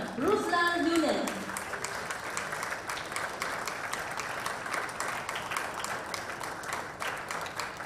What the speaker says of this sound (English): please put your hands together for a round of applause